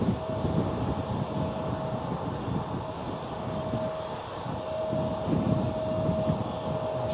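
An Embraer jet at Bristol Airport, heard as a steady moderate engine rumble with a constant whining tone, alone without talk.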